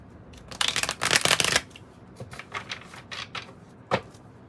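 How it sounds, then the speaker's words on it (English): Tarot cards being shuffled in quick riffling bursts, a loud flurry early on followed by softer, scattered flicks and one sharp snap near the end. "Let's give it another shuffle,"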